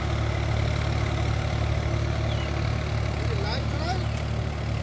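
A Sonalika DI 47 4x4 tractor running steadily with a Shaktiman rotavator, giving a constant low, close engine drone throughout while someone talks over it.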